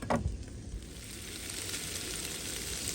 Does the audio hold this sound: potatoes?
yes